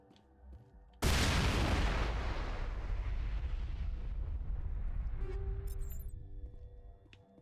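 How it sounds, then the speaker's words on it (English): Fuel tanks blowing up in Mass Effect: one sudden, loud, close explosion that bursts in and then rumbles and roars for several seconds before slowly fading. "I gotta blow up some fuel tanks"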